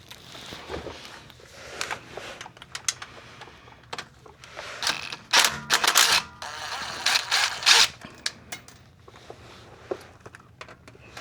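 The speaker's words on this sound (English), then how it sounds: "So let's go ahead and start getting these bolts free." Transmission pan bolts being loosened on a Ford F150 with a 6R80 transmission, a series of irregular clicking ratchet bursts and metallic taps, close and moderately loud with quiet gaps between.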